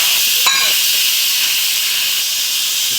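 A pressure cooker's release valve vents steam while Thai oxtail beef noodle soup cooks, a loud, sustained high hiss that starts after a brief click and keeps blasting steadily.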